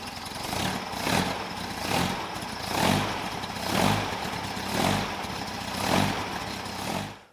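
Air-cooled Volkswagen Beetle engine running after an oil change, a steady idle with rhythmic swells roughly once a second, close and fairly loud, no talking.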